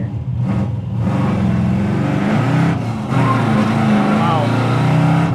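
A 1979 Pontiac Trans Am accelerates hard, its V8 roaring and climbing through the revs close by, with a brief shift break before pulling loudly again while people talk over it.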